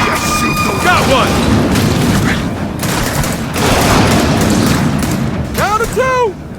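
Gunfire and booming blasts fill a firefight in the video game Gears of War 4, loud and dense in rapid bursts, with shouted voices breaking over the shooting.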